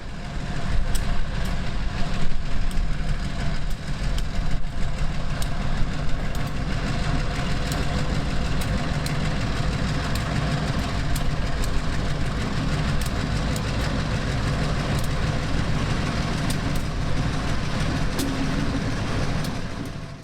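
A CSX freight train locomotive idles trackside in Central Florida, its engine giving a steady, loud low rumble that holds evenly for the whole stretch, with no voices.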